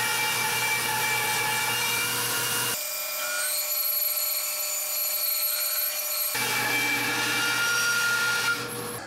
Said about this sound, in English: try to resaw this right down the middle and get 2 panels out of this one chunk of wood